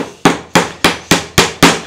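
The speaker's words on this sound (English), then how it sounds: "we can now knock these in" A hammer knocks in the nails of cable clips holding twin and earth cable, six sharp, loud, evenly spaced strikes about a third of a second apart with no talking.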